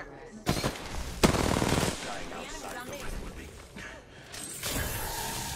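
Gunfire in a video game, a loud sharp burst and fast rattling rounds mixed with game effects and ambient noise, continuing at a moderate level through the clip while a voice talks over it.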